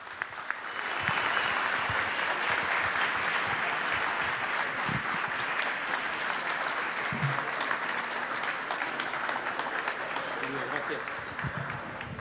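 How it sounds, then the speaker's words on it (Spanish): Sustained audience applause in a studio setting welcoming a guest on a talk show, steady dense clapping from a crowd filling the room for nearly the whole stretch, fading slightly at the end. "vamos a recibir con un aplauso a la Fiera"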